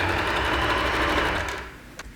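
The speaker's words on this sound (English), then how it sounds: "I'm pulling the elastic just a little bit, not too much, because with the zigzag stitch it will stretch." A sewing machine runs a zigzag stitch over stretched elastic for a bikini spaghetti strap, a close, rapid mechanical whir lasting about two seconds before slowing and stopping.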